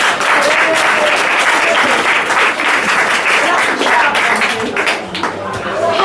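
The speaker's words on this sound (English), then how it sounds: "An applause for Wendy." Meeting audience breaking into sustained applause, dense steady clapping from many people filling the room for the whole stretch, loud and continuous with a slight dip near the end.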